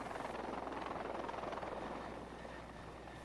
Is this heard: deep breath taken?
no